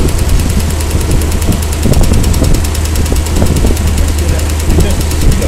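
A 1957 Ford Thunderbird engine with a mechanical fault runs at a steady idle, loud and close, with a fast, regular ticking knock repeating over the continuous rumble.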